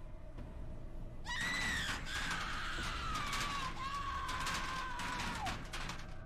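A woman's long, loud, wavering scream in the horror video game Oxide Room 104 starts abruptly and slowly falls in pitch over several seconds, over a dim rumbling background.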